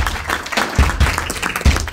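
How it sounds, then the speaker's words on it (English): Audience applause at a live debate in Cape Town, a close, steady spread of clapping with a few heavier thumps standing out, heard briefly on its own. "Let's give a round of applause."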